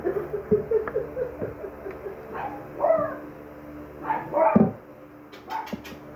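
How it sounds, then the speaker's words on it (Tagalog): Several dogs bark and yip intermittently in short bursts, with whimpering tones between, fairly close and with no talking. "Ang ingay ng mga aso."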